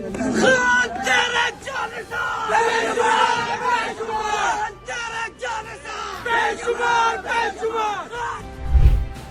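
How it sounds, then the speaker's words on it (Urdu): Released prisoners chant slogans in support of Imran Khan, many voices shouting together in a loud, continuous crowd chant with rhythmic surges, close and dense throughout. "باہر آ کر ان افراد نے پاکستان تحریک انصاف کے چیئرمین عمران خان کے حق میں نعرے بازی کر کے اپنے عزائم کا اظہار کر دیا ہے"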